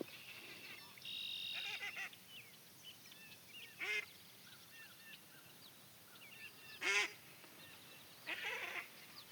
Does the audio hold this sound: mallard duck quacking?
yes